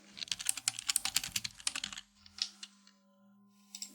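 Rubbish text being typed into fields of a motorhome points-of-interest application on a computer keyboard: a quick, dense run of close key clicks for two seconds, then a pause and a few isolated keystrokes.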